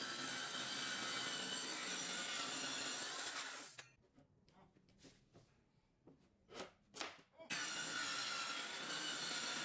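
Wood pieces for a shoe cabinet being cut, a run of separate rasping saw strokes, close and fairly loud, set between stretches of steady broadband noise.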